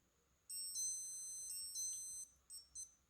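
A Rotary Chronograph G3031 wristwatch alarm gives a thin, high electronic beeping, a long warbling run of tones followed by two short beeps, close and clear over near silence.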